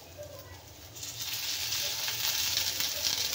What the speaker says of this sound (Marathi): कांदा पण आपल्याला गोल्डन भाजून घ्यायचा आहे। आता आपण याच्यामध्ये घालूया थोडंसं तेल,